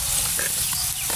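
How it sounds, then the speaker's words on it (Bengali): Spices with turmeric, salt and a splash of water stir-fried in a pan for a Bengali koi fish curry, giving a steady close sizzle with scraping stirs, no voices. "মশলা ভালো করে কষাই নেব, যাতে মশলার কাঁচা গন্ধটা চলে যায়।"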